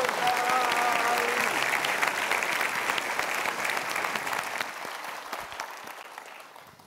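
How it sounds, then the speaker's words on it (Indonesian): Audience applause at an Indonesian motivational talk, loud and dense at first with a brief voice over the start, then gradually thinning and fading toward the end. "Berikan tepuk tangan sekali lagi untuk Bapak Angga"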